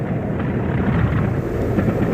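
A British Rail Class 40 diesel locomotive roaring on a return working, with flames coming from its exhaust port, giving a loud, rough, rumbling engine roar that holds steady and close with no talk.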